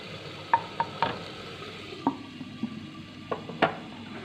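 Masala for fish curry frying in a pan, a low steady sizzle broken by several sharp spoon scrapes and taps against the pot as it is stirred, close up with no voice.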